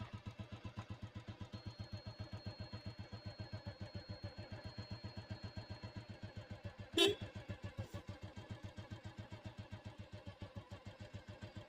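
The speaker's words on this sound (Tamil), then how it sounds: "வண்டி இன்ஜினில் ரன்னிங் நாய்ஸ் மட்டும் தான் ஃப்ரெண்ட்ஸ் இருக்கும்." An old petrol Royal Enfield Bullet motorcycle idling, a low thumping single-cylinder beat repeating evenly and close, with one brief sharp click partway through.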